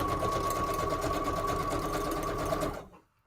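A sewing machine runs a wide stitch around the edge of a junk journal page, a steady close whirring hum for nearly three seconds before stopping abruptly.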